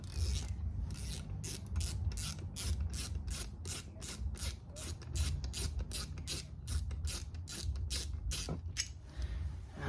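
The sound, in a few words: new brake caliper dragged along the ground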